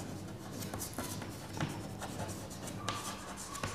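A lecturer writing out a derivation, with faint scratching pen or chalk strokes in short bursts over a quiet room hum.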